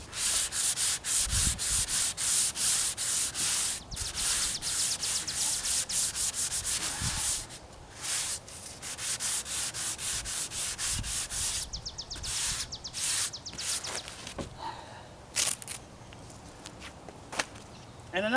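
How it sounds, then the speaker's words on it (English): Compressed air blowing dust off primed pieces of a baby dresser: a steady loud hiss in repeated bursts, broken by short gaps and a few knocks, with no talking. "So before I start painting, I am going to blow both these pieces completely clean."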